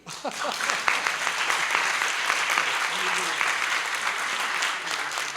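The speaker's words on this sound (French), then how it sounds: "Applaudissez-le." Sustained applause from a large audience at a conference plenary session, dense and steady throughout, with a few voices faintly mixed in.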